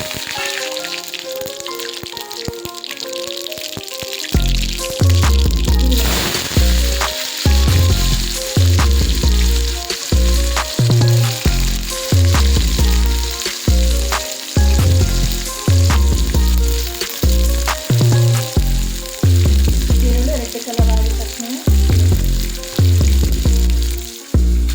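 Tempering spices hitting hot oil in a pan: after a quiet start, a loud close sizzle erupts and keeps crackling, with rhythmic spoon stirs and scrapes punctuating it.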